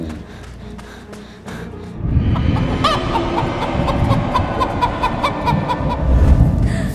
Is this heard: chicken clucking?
yes